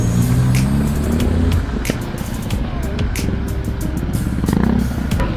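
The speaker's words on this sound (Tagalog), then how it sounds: "Grabe traffic dito" Heavy road traffic in Tondo, Manila, heard from a motorcycle: a steady close rumble of car and motorbike engines with revving and clatter, continuous throughout, with no talk.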